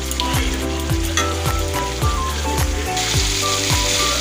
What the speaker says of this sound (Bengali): মশলার জলটা আমি দিয়েছি, দিয়ে আমি 2 মিনিট কষে নেব